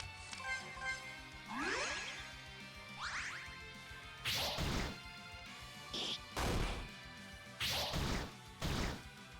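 Combat in an RPG Maker MV game: a run of loud smashing and whacking hits, with some whooshes and a ringing ding, arriving in quick bursts with short gaps between them.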